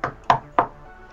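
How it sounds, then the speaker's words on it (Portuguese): Three sharp knocks on a door in the game Minecraft, evenly spaced and close up, with nothing else heard. "Você batendo na porta?"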